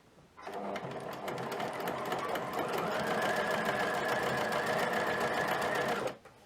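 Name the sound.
sewing machine stitching a jersey hem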